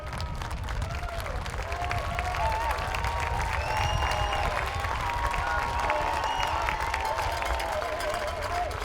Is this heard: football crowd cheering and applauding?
yes